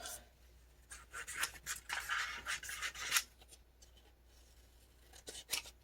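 Scissors snip out vintage paper people images for a craft project, giving a run of quick, close crisp cuts in bursts that pause briefly and resume, with no talking.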